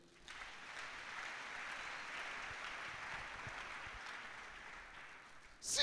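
Applause from a church congregation acclaiming Jesus during a French-language sermon, a steady broadband clatter of clapping sustained for several seconds at moderate level, with no voices over it.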